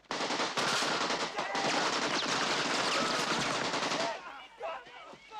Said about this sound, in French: Ça, c'est le AK-47, fusil d'assaut, l'arme préférée de vos putains d'ennemis. Son tac-à-tac est typique